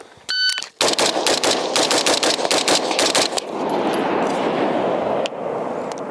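A New Frontier Armory G4 pistol fires a rapid string of loud, sharp shots in quick succession, followed by a lingering noisy wash and no talking.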